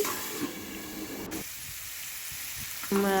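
Diced pumpkin frying in hot oil while being stirred gives a steady close sizzle with scraping stirs, quieter after the first second and a half, with a brief tonal clatter near the end.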